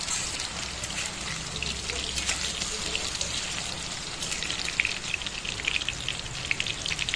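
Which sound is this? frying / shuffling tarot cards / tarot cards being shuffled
frying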